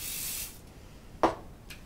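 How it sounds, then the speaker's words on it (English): Self-tanner body spray sprayed into a hand: a short hiss of mist up close, followed by a faint click and a softer second puff. "What I do is I spray it into my hand like this"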